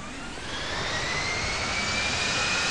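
A jet airliner in Infinite Flight Simulator, Malaysia Airlines livery, powers up for takeoff with a loud, steady roar and rising engine whine that swells slightly after the first half second and then holds.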